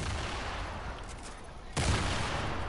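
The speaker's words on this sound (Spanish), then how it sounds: "lo que yo te estoy disparando en frente de tu cara" Burst of gunfire in the video game Fortnite, a dense crackling volley that jumps in loudly partway through over a steady background of game noise.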